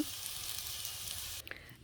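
Bitter gourd fries in oil in a pan, giving a steady close sizzle that runs evenly, then drops away near the end as a few soft clinks sound.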